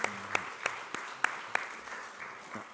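A small church congregation at an afternoon worship service gives brief, soft applause, a handful of distinct claps over a faint murmur that trails off quickly.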